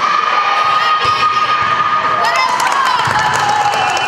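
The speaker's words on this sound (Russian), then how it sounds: "Пока одни сражаются на площадке, запасные с трибун скандируют кричалки в поддержку." Substitute players in the stands at a regional volleyball tournament chant cheers to support their team, a loud, sustained mass of shouting voices close by.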